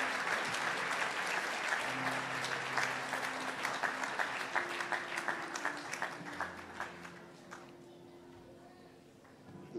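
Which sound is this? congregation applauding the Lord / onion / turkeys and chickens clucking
congregation applauding the Lord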